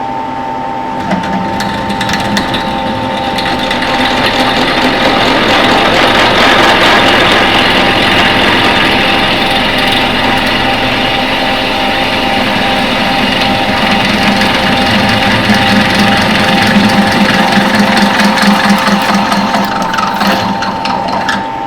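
A loud, steady whine from a machine cooling fan, screaming continuously in a workshop during metal drilling with a 5/8 drill, with a constant mechanical drone underneath and no talk.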